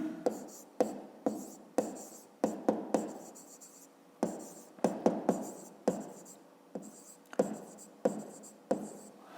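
A pen writes an equation's root by hand on paper in a maths exercise, producing close, dry scratching strokes in quick irregular bursts with brief pauses between, no talking.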